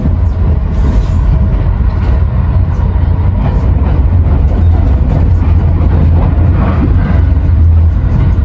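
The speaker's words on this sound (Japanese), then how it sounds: "列車は園部に到着です" A limited express train on the Maizuru line rumbles steadily along the rails, a constant loud low drone with faint rattling and clatter throughout, no voices.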